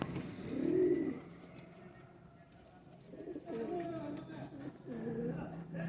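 Pigeons at a pigeon sale, including a female bird, give low, soft rolling coos in a few repeated bursts, close by, while people talk over them.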